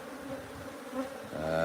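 Bees hum in a steady, moderate drone around a hive box as the colony settles inside.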